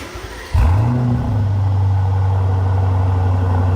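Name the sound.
Aston Martin DB12 engine revving with Quicksilver exhaust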